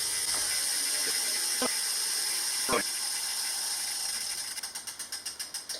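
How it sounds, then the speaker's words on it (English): A Tacx Flux smart trainer's flywheel spins down, a steady whirring hiss gradually slowing into rhythmic ratcheting clicks near the end, heard alone. "We'll wait for the flywheel to stop."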